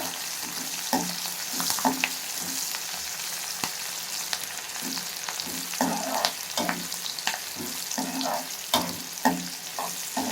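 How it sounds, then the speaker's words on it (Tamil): Onions, dried chillies and curry leaves fry in a pan, a continuous sizzle broken by repeated scraping stirs and soft utensil knocks, with no speech. "வெங்காயம் நல்லா வேகட்டும் கொஞ்சம்."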